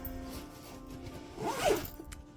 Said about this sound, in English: You know there's another zipper on the other side